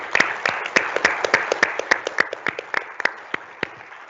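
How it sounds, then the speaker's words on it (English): A small town hall audience claps, sparse and distinct individual claps in an irregular rhythm, fairly close and few in number. "let's give a round of applause to our most valuable player for the month of June."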